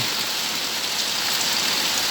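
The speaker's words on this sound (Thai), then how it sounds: "ทั้งวันตกไม่หยุดเลยครับฝน" Heavy rain pours down in a dense, unbroken hiss during a day-long downpour in rural Thailand, steady and enveloping with no other sounds.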